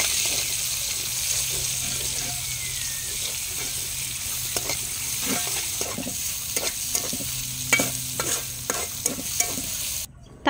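Chopped onion and crushed garlic fry in oil in a wok with a steady sizzle, punctuated by repeated spatula stirring scrapes that grow busier toward the end; no voices.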